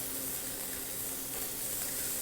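Thin beef slices frying in a pan already coated with scallion-flavoured oil for sukiyaki, a dense, even hiss of sizzling that holds steady throughout.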